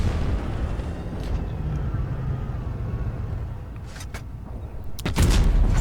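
The tank gun on a Tier 10 116 F3 fires in Tanks Blitz with a heavy boom near the end. It rises out of a steady low engine rumble, and a few smaller impacts come just before the shot.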